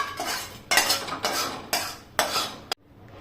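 A spoon scrapes roasted sesame seeds and coconut out of a frying pan into a dish, making several distinct scraping and clinking bursts close by in a quiet kitchen, then the sound stops abruptly.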